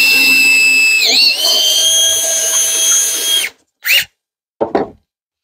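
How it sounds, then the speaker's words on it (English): A loud power drill whines steadily at high speed, its pitch dipping briefly under load, then stops, followed by two short bursts of drilling; enlarging a hole at an angle for an RV tank flush. "We'll throw that in the drill."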